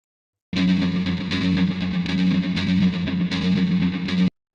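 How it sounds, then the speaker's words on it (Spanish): A dense, distorted synth atmosphere drones steadily for about four seconds with slow swells, then cuts off abruptly; no voices. "En el primer canal tenemos una atmósfera que suena así."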